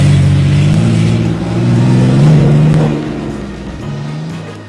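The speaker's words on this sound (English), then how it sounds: "if we listen closely to the latest prototypes, they do seem to sound naturally aspirated." A Porsche 992.2 911 prototype engine drones steadily at close range, its pitch rising and falling through smooth revs with a throaty, naturally aspirated tone.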